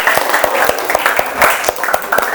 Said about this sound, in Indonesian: Tepuk tangan dulu untuk penjelasan dari Okta ya.